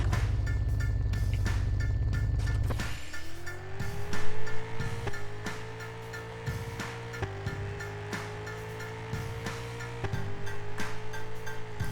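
Car engine in the video game 7 Days to Die, a loud, rough rumble that drops in pitch and then revs steadily while driving, with repeated rhythmic thumps, close and dominant throughout.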